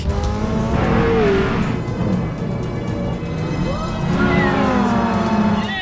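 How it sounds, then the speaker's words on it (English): Nissan 370Z race cars race at Silverstone, with engine roars rising and falling as cars pass and faint tyre squeal, loud and fairly close under a busy circuit wash. "Jann's got to go up against 3 other drivers in a 20-minute race at Silverstone in the Nissan 370Z to win GT Academy."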